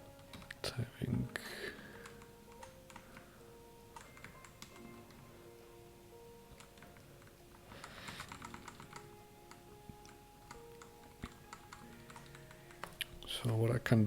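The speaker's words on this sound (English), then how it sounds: "Typing." Keys clatter on a computer keyboard in irregular bursts of quick, light taps, pausing and resuming, with some quiet speech in the background.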